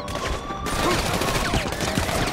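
A force punch from an electric man mod in GTA 5 fires off amid a dense, loud burst of rapid game impacts and crackling fusillade-like blasts that runs throughout.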